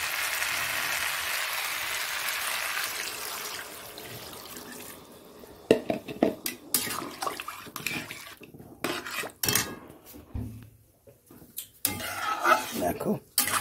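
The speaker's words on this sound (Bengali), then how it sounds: "জল দিয়ে দিচ্ছি" Water pours steadily into a pot of Bengali fish curry with potatoes, a continuous broad rush for the first few seconds, followed by clinks and scrapes of utensils and pot with gaps of quiet.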